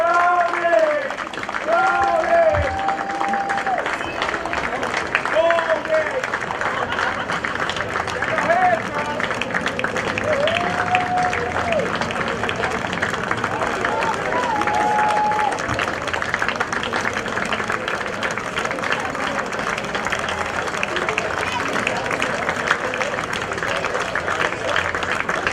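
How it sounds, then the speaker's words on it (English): A crowd applauds Team England, European vice champions, at a lacrosse match prize ceremony, with sustained clapping and cheering under an announcer's voice and background chatter throughout. "Once again, big applause for Team England, the vice champions of Europe."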